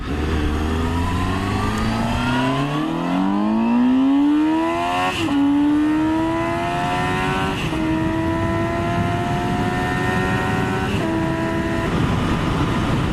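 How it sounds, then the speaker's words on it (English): Revving engine climbing steadily in pitch, dropping back slightly at gear shifts and climbing again, loud and close throughout with no voices, consistent with a motorcycle accelerating hard. "motorcycles just sound pretty damn cool"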